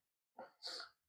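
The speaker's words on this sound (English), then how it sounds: "I'm gonna sneeze." One person sneezes once, a short inhaled catch followed by a sharp burst, close and clear in a quiet room.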